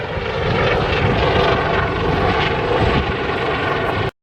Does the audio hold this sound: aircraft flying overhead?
yes